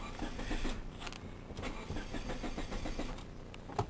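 A Geo car engine with a failed fuel pump cranks steadily without catching, the starter's rapid rhythmic churning running close and loud for nearly four seconds.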